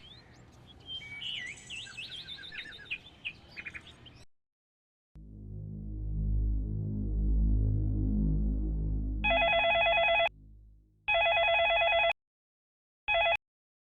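In a Pakistani TV drama scene, a telephone rings in repeated electronic bursts with short gaps between them. Earlier, light bird chirps sound over a deep, droning musical swell.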